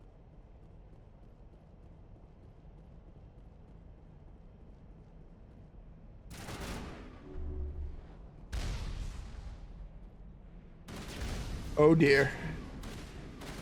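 Distant gunfire exchange in the video game Mass Effect 1, heard as a few broadband bursts of shots after a quiet stretch, with a person talking briefly over it.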